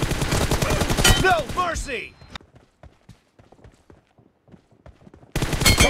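An M416 rifle fires in a shooting video game, with bursts of quick, punchy shots and rattling impacts at the start and end and sparser taps between them, mixed with in-game voice lines.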